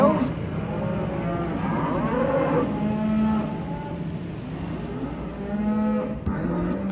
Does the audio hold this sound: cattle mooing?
yes